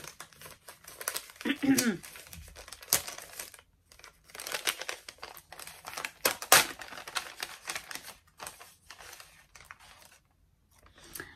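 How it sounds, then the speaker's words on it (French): Paper envelope being torn open and handled, with crinkling, ripping and rustling in irregular close bursts and someone speaking over parts of it. "c'est l'enveloppe de Julie"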